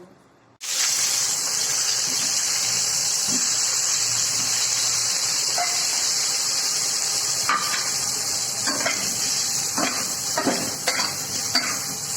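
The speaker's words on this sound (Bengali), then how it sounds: "এবার এই তেলেই আমি আলুগুলো ভালো করে ফ্রাই করে নেব।" Potatoes frying in hot oil for an egg curry, a loud steady sizzle that starts abruptly and continues throughout, with occasional stirring clinks and scrapes near the end.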